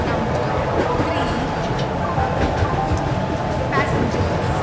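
A Goods Express train pulling into platform 3 at an Indian railway station, a steady loud rumble and rolling rail noise heard throughout, with station sounds mixed in.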